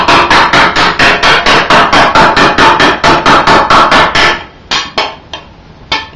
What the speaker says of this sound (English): I'll take the hammer